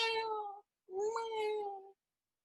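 A person imitates a cat's meow twice in a row, two drawn-out, nasal mewing calls separated by a short pause, clear and close.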